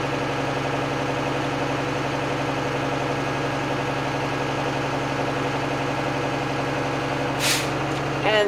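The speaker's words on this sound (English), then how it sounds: "roll the window down so you can hear the governor go off" Truck idling steadily in the cab with a low droning engine, then near the end a short sharp hiss of air as the air brake governor cuts out and releases.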